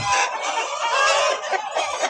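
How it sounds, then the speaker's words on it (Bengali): Many Sonali chickens clucking and squawking together in a poultry farm shed, a busy chorus, close and loud, with overlapping calls throughout. "প্রতিটি শেডেই রয়েছে অত্যন্ত চমৎকার কালারফুল মুরগি"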